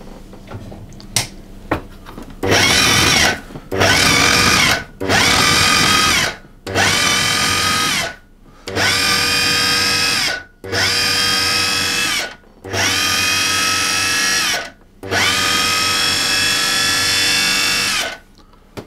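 A food processor pulses almond cake dough in about eight loud, close bursts of whirring motor, each roughly a second long, separated by short silent gaps and preceded by a few clicks.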